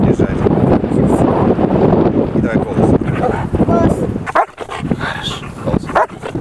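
A police dog barks loudly and close on command, in a rapid run of sharp barks and yips with whimpers between, while a handler speaks over it outdoors with some wind buffeting the microphone.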